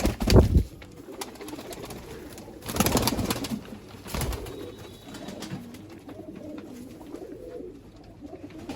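Rampuri pigeons coo in low, soft, repeated murmurs in a pigeon loft, with a few brief rustling bursts nearby and no talking.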